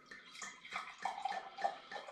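Homebrewed all-grain chocolate porter beer pouring into a 1993 Barnsley Beer Festival tankard, a close, uneven gurgling splash with bubbly glugs that rises and falls throughout.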